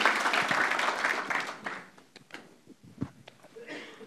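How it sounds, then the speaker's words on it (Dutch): Audience applause at a Dutch-language interview Q&A, a burst of many claps that starts loud and quickly thins out into a few scattered, fading claps and small noises. "Geef hem daarvoor een applaus."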